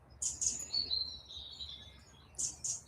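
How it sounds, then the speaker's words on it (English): Birds chirp outside in the morning, faint and at a distance, with short bursts of high tweets at the start and end and a thin sustained whistle between them. "The birds are rowdy out there this morning"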